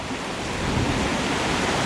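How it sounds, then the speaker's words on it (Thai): Heavy rain pours down steadily over a campsite during an off-road camping trip near a waterfall, a loud, dense, continuous hiss that swells slightly partway through, with no voices. "แล้วฝนก็เทลงมาเลยค่ะ"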